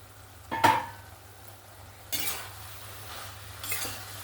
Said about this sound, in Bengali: আমি নাড়াচাড়া করে নেব, একটু ঘাঁটিয়ে নেব